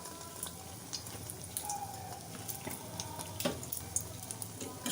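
An egg and onion toast fries in a pan on the stove with a constant close sizzle, dotted with sharp pops and spatters throughout.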